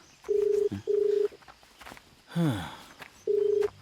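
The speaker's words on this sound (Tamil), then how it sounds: "இவன் ஃபோன் எடுக்க மாட்டேதா" An unanswered phone call rings out in a Tamil-dubbed film, repeated steady electronic ringback tones in bursts with a short noisy sweep between them, alone and fairly clear.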